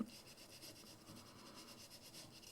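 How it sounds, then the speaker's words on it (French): A pencil eraser rubs out pencil lines on paper during a papercraft envelope project. The soft, quiet, rhythmic strokes repeat close by, with no talking. "Je vais gommer un peu mes traits pour pas qu'on les voit de trop."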